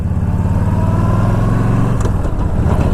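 A Yamaha motorcycle engine runs at mid to high RPM, a loud, steady close-up drone that shifts and roughens near the end.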